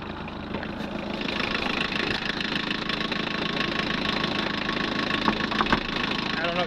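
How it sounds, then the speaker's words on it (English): Steady idle of a 1981 VW pickup's diesel engine running on 23-year-old fuel, a constant rough knocking clatter at moderate volume throughout. "Now it is running on that 23-year-old diesel fuel."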